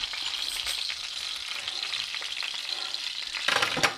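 Bangers sauté in a hot pan, giving a steady close crackling sizzle that swells briefly near the end, with no voices.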